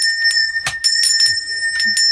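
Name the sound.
hand bell rung to summon a servant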